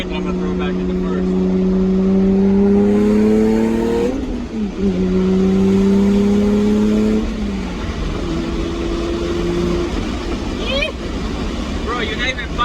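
An MK4 Toyota Supra engine revving while driving, its rising tone climbing, dropping and climbing again in steady pulls, with people talking inside the cabin over it.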